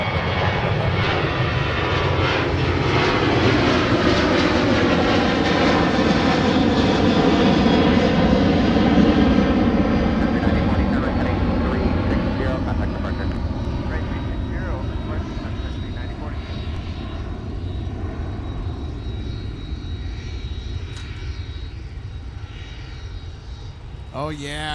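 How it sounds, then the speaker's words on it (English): A Sun Country airliner makes a steep takeoff at MSP airport, its jet engines building to a loud, sustained roar that peaks early and then slowly fades as it climbs away, with a thin high whine lingering. "Oh yeah, I love those takeoffs, Logan. Those nice steep takeoffs."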